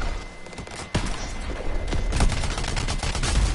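Rapid bursts of gunfire in the video game Anthem, a dense fusillade with a sharp report near the start that swells into continuous loud shooting and thuds to the end.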